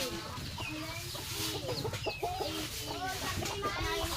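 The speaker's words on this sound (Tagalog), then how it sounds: "At ito din ang mga chicken." Small chickens cluck and chirp repeatedly at close range in an outdoor yard, with busy background noise throughout.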